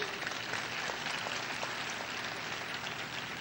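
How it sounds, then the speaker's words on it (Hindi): A crowd at a spiritual discourse claps in a steady, even patter of many hands. The applause sounds somewhat distant and holds at a constant level throughout. "ताली बजाना है तो ठीक से बजाइए।"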